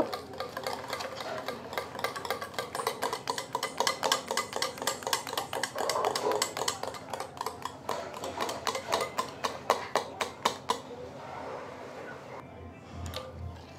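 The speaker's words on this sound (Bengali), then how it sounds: "দিয়ে দিলাম 2 চামচের মতো সাদা তেল, দিয়ে ভালোভাবে ফেটিয়ে নিব" Egg beaten with about two spoonfuls of white oil in a bowl for a sweet pitha batter, a fast steady run of whisk strokes clicking against the bowl, close and continuous, fading toward the end with no talk.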